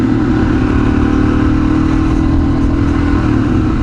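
A Suzuki DRZ400S dirt bike engine runs loud and close, a steady rough mechanical drone with constant clatter and no break, and nobody speaks over it.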